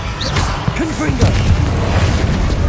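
A Confringo blasting spell explodes in Hogwarts Legacy, a loud booming burst with rumbling debris, mixed with spoken incantations and further combat noise.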